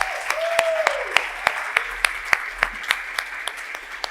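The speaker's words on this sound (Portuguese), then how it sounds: "Dê uma salva de palmas para eles" Congregation applause during a church service, a soft bed of clapping with distinct louder claps at a fairly regular beat, moderately close, with a brief voice near the start.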